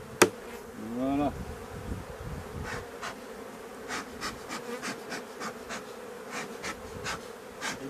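Honey bees buzzing around an opened beehive body after a sharp knock at the start, a dense, continuous drone close by with individual bees whirring past in repeated short swells.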